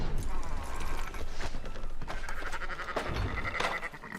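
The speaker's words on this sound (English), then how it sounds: "Fine sheep." Sheep bleat in the Red Dead Redemption 2 video game, several close bleats among farm animal noise and hoof clatter.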